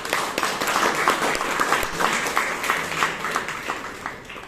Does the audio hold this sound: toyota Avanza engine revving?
no